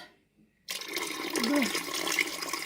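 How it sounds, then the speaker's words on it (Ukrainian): Water pours into a large pot holding thirteen glass jars set for sterilizing on a stove, starting abruptly after a near-silent moment and continuing as a steady rushing splash, with faint clinks. "доливаю води"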